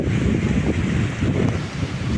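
Strong wind gusts during a thunderstorm with rain roar into the microphone as a dense, continuous low rumble. No voices are heard.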